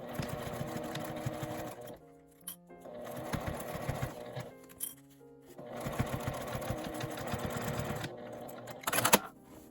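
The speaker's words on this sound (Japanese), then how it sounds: "1センチの縫い代で縫います。" A sewing machine runs in long stitching bursts with brief pauses between them, sewing fabric pieces together for a zipper pencil case with a 1 cm seam allowance. It sounds close and steady, with no talking.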